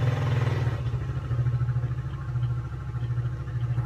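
A motorcycle engine runs close by with a steady, low rumbling idle and a fast regular pulse throughout, holding at an even level for the whole stretch.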